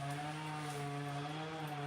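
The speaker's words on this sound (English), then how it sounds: "So if you hear the chainsaw in the background, that's what they're doing." Chainsaw droning steadily as neighbours trim big trees in a residential yard, a continuous engine whine at moderate distance with no talk.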